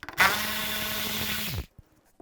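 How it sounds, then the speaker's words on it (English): A power driver with a 10mm socket backs out headlight mounting bolts on a 2015-2020 Cadillac Escalade, giving one steady, close whir for about a second and a half before cutting off into quiet. "Take these bolts out on both sides, use a 10mm socket."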